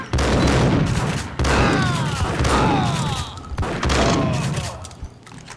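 Gunfire from the video game Max Payne, several heavy bursts of shots in quick succession, loud and close, with booming reports and ringing tails between volleys.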